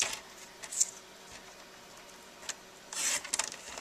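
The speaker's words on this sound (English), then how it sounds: "I'm actually going to trim down my Whisper White piece here with my Stampin' trimmer here." A Stampin' paper trimmer cuts a piece of Whisper White cardstock: faint, close clicks and a brief sliding swish of the blade, followed by a louder rasping cut near the end of an otherwise quiet tabletop scene.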